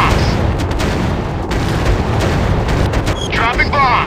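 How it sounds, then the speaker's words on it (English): Bombs exploding in a WW2 warplane dogfight mobile game: continuous loud rumbling booms and blasts with engine drone, dense and close, overlaid near the end by a spoken in-game voice announcement. "Dropping bombs. Target out of action."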